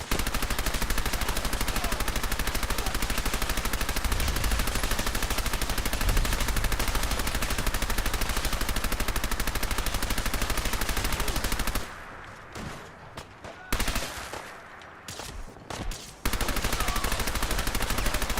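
Rapid, loud gunfire from the video game Fallout 4, Far Harbor, with continuous automatic bursts that break into a few scattered shots during a short lull and then resume at full intensity.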